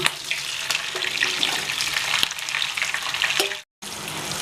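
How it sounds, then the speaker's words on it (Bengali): Capsicum and onion fry in a pan, giving a continuous loud sizzle with occasional stirring clatter and one brief break near the end. "এই ক্যাপসিকাম আর পেঁয়াজটা ভাজা করে নিচ্ছি"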